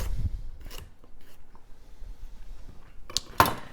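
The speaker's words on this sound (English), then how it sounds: "take the ends off, and then we'll just slice it into little medallions" A knife slices pork tenderloin into medallions with soft, quiet cutting sounds, followed by a couple of sharper knocks close together near the end.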